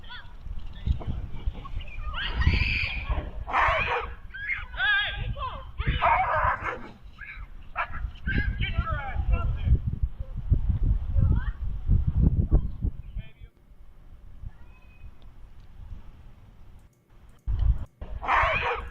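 A dog barks and whimpers amid lively chatter and background noise, its yips mixed with people talking throughout.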